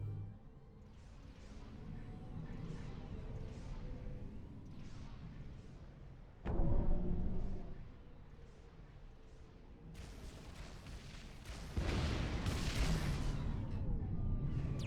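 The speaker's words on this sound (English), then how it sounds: "something's shooting us there" Units trading fire in the real-time strategy game Supreme Commander: Forged Alliance, faint rumbling artillery thuds and booms under a low battle drone, with a sharper burst midway and a louder wash of gunfire near the end.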